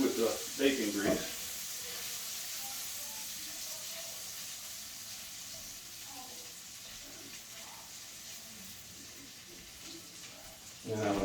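Ingredients are stirred into hot bacon grease, producing a soft, even sizzle and hiss that continues steadily, with brief bursts of talking at the start and end.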